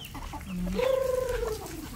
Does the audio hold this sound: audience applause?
no